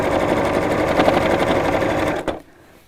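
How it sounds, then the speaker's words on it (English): A sewing machine stitches a fabric storage pouch with a fast, even mechanical hum at close range, then stops abruptly near the end. "So I'm just going to sew that closed and then carry on all the way around."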